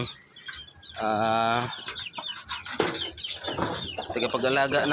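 Native hens and other chickens cluck and call close by at a farm where Shamo chickens are bred, with one drawn-out, loud crow-like call and busy overlapping clucks, while a person talks at times.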